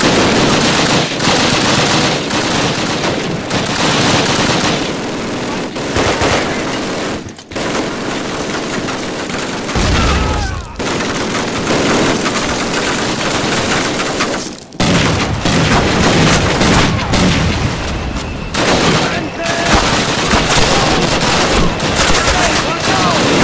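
Relentless machine-gun fire rattles through the Pavlov's House battle of Call of Duty's Soviet campaign, loud continuous bursts layered with booming shots and only a few brief gaps.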